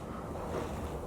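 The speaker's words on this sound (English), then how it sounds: "Sorry about any wind noise you hear in the background." Strong wind blows outdoors on a very windy day in Chicago, buffeting the microphone with a continuous low, rushing roar and no break or lull.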